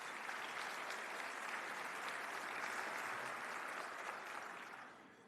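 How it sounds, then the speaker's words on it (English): A chamber of commerce audience applauding credit union honorees, a dense, even burst of clapping that holds steady and then tapers off toward the end. "So if we could give these guys a round of applause,"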